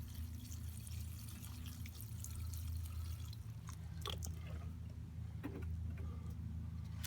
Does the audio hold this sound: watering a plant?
yes